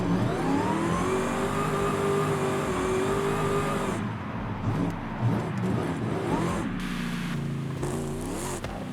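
A Cadillac CTS-V drift build in Forza Horizon 5 revs its engine continuously, a loud, steady mid-pitched growl that shifts pitch midway, then rises again near the end.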